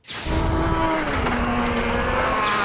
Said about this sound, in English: A two-cycle engine sucking up a lot of gas with a lot of torque and carrying an old 76 snowmobile down a quarter mile